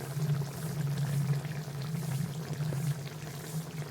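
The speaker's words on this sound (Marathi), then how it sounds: "मासा शिजला आता मस्तपैकी उकळे आले" A pot of fish curry boils steadily, with a soft continuous bubbling and low simmering rumble, close by and unbroken.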